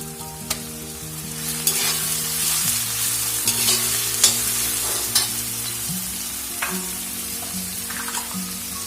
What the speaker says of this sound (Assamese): এতিয়া মই দিম কাটি থোৱা বিলাহী।